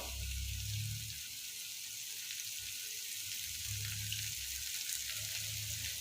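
Chicken rica rica with coriander sizzles steadily as it fries in a pan, with soft low stirring scrapes recurring under the constant hiss; no voices.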